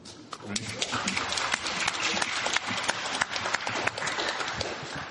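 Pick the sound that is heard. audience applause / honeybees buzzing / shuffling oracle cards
audience applause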